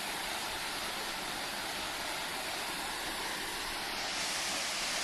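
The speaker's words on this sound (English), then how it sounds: "Look at the pretty waterfall." A waterfall pours in a steady, dense roar, loud and unbroken throughout with no voices over it.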